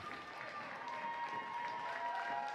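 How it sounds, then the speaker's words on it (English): Fans in a gym applauding after a girls varsity basketball game, a faint, steady patter of clapping and crowd noise heard from a distance. "Good round of applause by the fans here."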